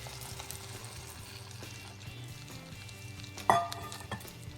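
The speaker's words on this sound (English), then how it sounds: "now we're putting the marshmallows in the hot pot" Marshmallows in a hot pot give a steady, quiet sizzle under soft stirring, with one sharper clink of a utensil against the pot near the end.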